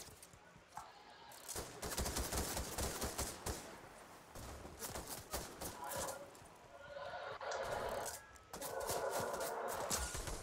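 Rapid gunfire in the video game Fortnite, dense crackling bursts and automatic volleys, loud and close with short pauses between strings of shots, and a horse-like whinny sound mixed in.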